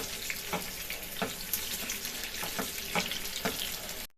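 Cutlets frying in a Hascevher frying pan, a steady broadband sizzle with small crackling pops spread through it, continuous and fairly close, with no voices.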